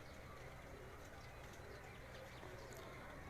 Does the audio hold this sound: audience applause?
no